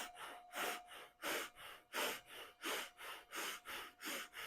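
Rapid, rhythmic breath-of-fire yoga breathing: sharp forceful nasal exhalations about three per second, evenly paced and close, with no talking.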